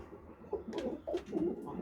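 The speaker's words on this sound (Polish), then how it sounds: "To są te gołąbki, które przywiozłem." Soft, low coos from pigeons in a small pigeon loft repeat a few times in a gentle burbling rhythm, close by, over a faint background hum.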